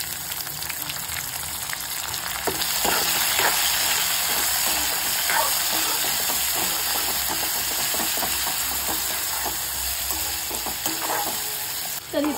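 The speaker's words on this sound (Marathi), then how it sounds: "तर इथं आपण टोमॅटो टाकून घेऊया." Tomatoes fry in a pan with a loud, steady sizzle and hiss, broken by repeated scraping stirs and small spatters, heard up close and alone without talk.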